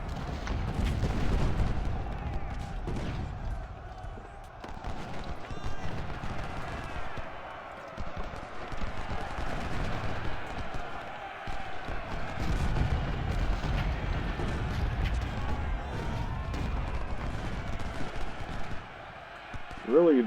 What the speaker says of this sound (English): Let's see if I can't focus all of my artillery on that one there.